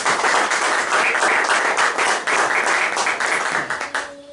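A church congregation claps steadily in a dense burst of applause that holds strong, then thins out and fades near the end.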